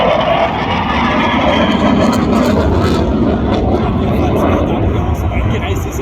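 Aircraft flying past at the AirPower airshow in Zeltweg, a steady loud engine roar holding throughout with a broad rushing tone, while a commentator speaks over it.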